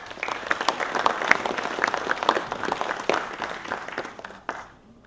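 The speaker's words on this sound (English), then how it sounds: "please give a warm round of applause to welcome Josh Lothringer." A lecture audience gives a warm round of applause welcoming an exoplanet astronomy speaker: dense, steady clapping from many hands that thins and fades out near the end.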